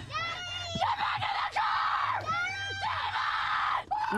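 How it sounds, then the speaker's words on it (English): Screams from a horror film, The Mist (2007), play during a viewing, with loud, shrill, wavering cries repeated over about four seconds against a dense film soundtrack. "Stop screaming."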